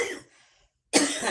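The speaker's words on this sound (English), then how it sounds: "This dry cough." A single short dry cough from one person, close and fairly loud, then a brief silence before another harsh burst of coughing.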